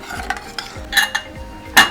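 A spoon scrapes and stirs through potato curry in a metal pressure cooker, a few quick clinking strokes close up.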